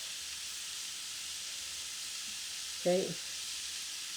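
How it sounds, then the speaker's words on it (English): Sausage frying in hot olive oil gives a steady, even sizzle and hiss that runs throughout, with a single brief spoken word near the end. "I'm heating up 2 tablespoons of olive oil while I'm frying up my sausage."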